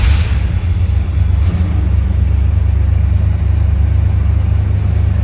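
A 1978 Ford Bronco 4x4's engine runs just after a cold start, a loud, steady, deep rumble heard up close from inside the cab.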